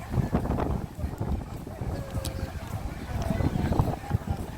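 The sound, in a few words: strong wind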